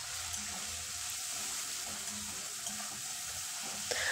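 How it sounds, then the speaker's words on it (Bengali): Spice paste of ground chilli, cumin and turmeric, thinned with a little water, frying in a pan for a fig (dumur) dish, giving a steady soft sizzle with a few faint scrapes of stirring throughout. "সামান্য একটু জল দিয়ে মশলাটা খুব ভালো করে কষে নেব"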